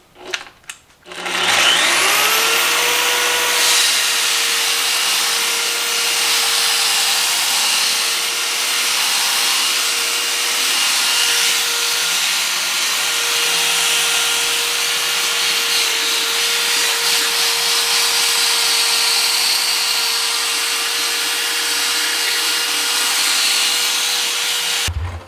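Vevor belt sander grinding square steel tubing in a workshop, a loud continuous abrasive roar with a steady whine that starts after a few brief knocks and runs unbroken to the end.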